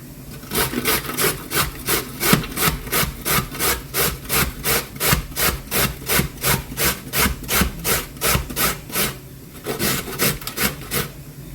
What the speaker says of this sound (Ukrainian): І зараз буду терти морквичку.